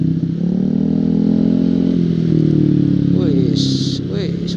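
A motorcycle engine drones steadily on a Sunday-morning group ride in Limpakuwus, its pitch sweeping up and down as the rider revs through a gear shift, with someone talking over it throughout.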